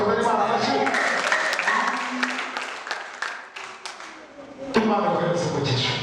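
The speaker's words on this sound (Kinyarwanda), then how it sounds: "Dukomere Imana amashyi." A church congregation clapping, a burst of close applause that rises and fades over several seconds, with a preacher's voice speaking over and around it.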